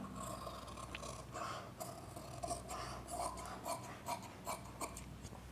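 Scissors snip through blouse cloth around the back neckline in a series of quiet, rhythmic crisp cuts close by, with faint rustling of fabric between snips.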